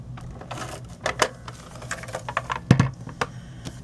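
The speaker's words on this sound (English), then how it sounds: "now I'm going to add tape down the center of the back" Adhesive tape laid down the center of the back of a paper gift card holder, with scattered light taps, crinkles and one firm press or thump, close up and without speech.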